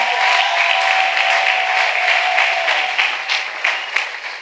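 A congregation claps and acclaims during a New Year's Eve night prayer service, dense steady applause with a faint tonal hum underneath, loud and continuous, rising in a few sharper bursts near the end.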